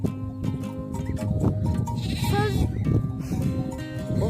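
Several sheep bleat repeatedly in wavering cries, close and fairly loud, over a steady busy background with faint voices, on a village sheep farm.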